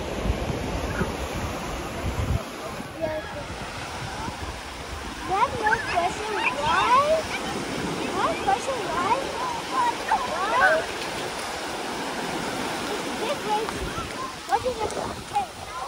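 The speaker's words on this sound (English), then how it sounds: "Big waves coming." Big ocean waves surging near a sea cave on the Hawaiian coast, a continuous roaring wash with splashing and swelling surf, loud and close, with people talking and calling out over it.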